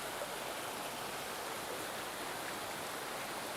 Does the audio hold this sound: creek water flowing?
yes